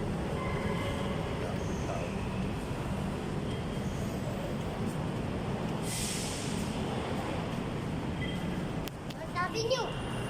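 An MRT metro train in a station: a steady, loud rumbling wash of rail noise fills the scene, ending with a brief hiss of air brakes, while people talk over it.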